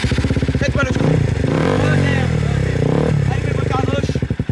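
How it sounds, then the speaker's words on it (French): A motorcycle engine, either a BMW or a KTM, runs with a loud, close, steady throbbing idle and rises slightly in revs, while people talk over it. "est-ce que vous êtes prêts à allumer le moteur à droite, s'il vous plaît?"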